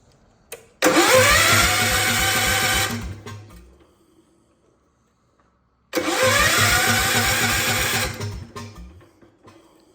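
A 50-year-old John Deere garden tractor engine cranked from cold in two long bursts, each a loud, rapid mechanical churning that runs a few seconds then dies away, separated by a pause of silence.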